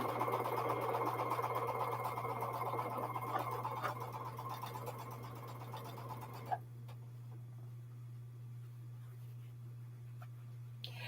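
A sewing machine stitches quilt fabric pieces in a steady, close, mechanical run, continuing for several seconds before it stops, leaving a quiet room with a low hum and a single faint click.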